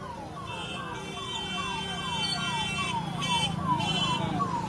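Ambulance siren in Mokama, Bihar, wailing in a fast repeating falling sweep, moderately close and steady under a background hum, with no talking.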